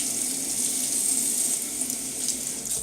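A bathroom tap runs steadily to rinse during a shave with a safety razor, a close, even hiss of water that continues without a break.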